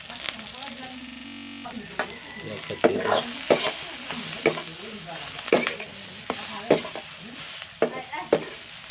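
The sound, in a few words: meat frying and stirred with cumin and meat masala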